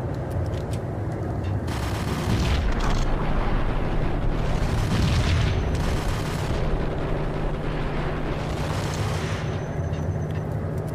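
Gunfire in the Max Payne shooter game, a steady dense barrage of shots and blasts that runs almost the whole time with a few louder bursts, continuous and close.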